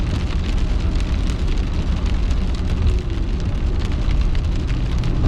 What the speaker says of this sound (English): I was hoping the rain would quit, but in place of it quitting, it's speeding up